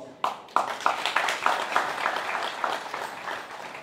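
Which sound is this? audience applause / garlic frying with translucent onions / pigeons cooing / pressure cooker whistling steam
audience applause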